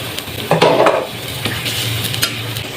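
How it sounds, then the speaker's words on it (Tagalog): Pork liver is stirred into a pan of softened meat while cooking igado, with a spoon scraping and clinking against the pan over a soft, steady sizzle. "ilagay ko na dito yung atay"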